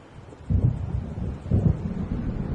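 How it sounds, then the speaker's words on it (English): Low rolling thunder with steady rain during a thunderstorm in the video game Alan Wake Remastered, two heavy rumbling swells rising out of a constant wash of rainfall, fairly loud and with no voices. "It seems there's a storm coming."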